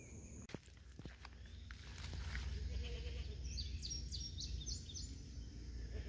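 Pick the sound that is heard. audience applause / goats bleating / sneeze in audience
goats bleating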